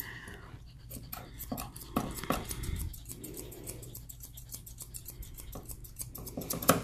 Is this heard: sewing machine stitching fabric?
no